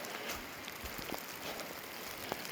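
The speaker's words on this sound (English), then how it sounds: "There comes the rain." Rain falls on a forest in the Elbe Hills near Ashford, Washington, a faint, steady patter with a few sharper drips landing close by, and no voices.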